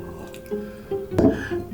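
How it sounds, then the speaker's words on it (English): Pisco poured in a short splash, a near liquid pour swelling briefly at the midpoint over a quiet room. "Pour un poquito del pisco."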